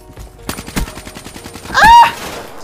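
Rapid burst-weapon gunfire in Call of Duty Black Ops 3, a string of sharp close shots in quick clusters, followed by a louder swelling whoosh near the end.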